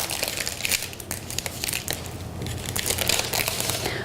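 A new Redon drain bottle being unwrapped from its packaging, giving steady close crinkling and crumpling of plastic wrap with sharp crackles throughout, no voices.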